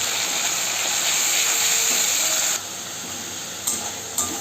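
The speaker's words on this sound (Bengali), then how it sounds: "আমি কিছুটা পেঁয়াজ ভেজে পেস্ট করে নিয়েছি, সেটাকে আমি তেলের মধ্যে দিয়ে দেব" Fried onion paste sizzles steadily in hot oil for a Bengali katla fish kalia, a bright continuous hiss that drops slightly in level partway through, with faint stirring clicks near the end and no talking.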